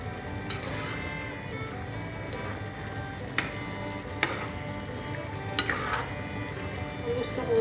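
Squash, okra and jute leaves simmering in coconut milk give a steady close sizzle, punctuated by occasional sharp clinks and scrapes of a utensil stirring the pot.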